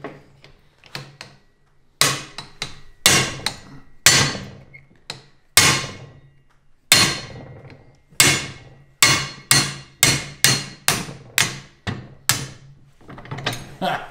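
A hammer whacks a punch on a Hi-Lift jack, with a long series of sharp metallic strikes, sparse at first and then coming in a quicker, steady rhythm, loud and close.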